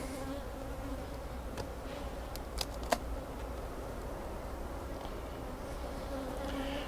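Honeybees swarm over an open beehive near the end of a honey flow, filling the air with a constant, close, droning buzz, punctuated by a few faint clicks and light knocks, with no voices.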